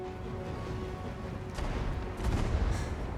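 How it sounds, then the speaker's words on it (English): Flame cannon explosions in Total War Warhammer 2 thud as a low rumbling fusillade, with a few overlapping booms swelling toward the end of a dense, muffled battle soundscape. "Those explosions are brutal."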